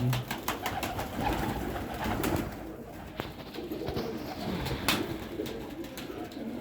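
Domestic pigeons coo at close range over a busy breeding loft, with scattered clicks and flutters and soft background voices under the calls.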